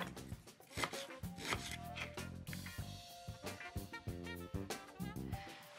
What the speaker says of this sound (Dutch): Ik ga een shallotje fijn snijden.